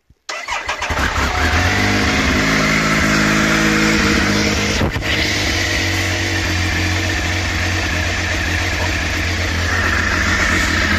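A Triumph Speed Triple 955i motorcycle engine cranks and fires up, then holds a loud, steady rumbling run close by for the rest of the clip, with no talking over it.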